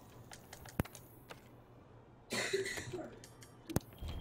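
A single close cough bursts out alone after a quiet stretch, with a couple of sharp clicks nearby; no one speaks.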